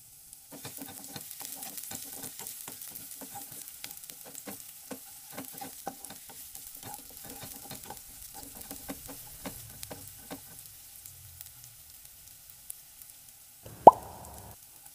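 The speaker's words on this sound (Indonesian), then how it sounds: "kalau minyaknya udah panas, kita tumis bumbunya. Ada bawang merah" Shallots and spices sautéing in hot oil, with rapid close crackling and popping that lasts about ten seconds, then fades to a quiet simmer, followed by one sharp clatter near the end.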